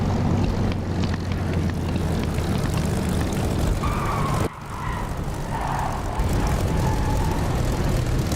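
An aircraft comes in to land in the DCS flight simulator game. Its engine drones steadily and loudly, dips abruptly midway, then continues with a slightly varying tone.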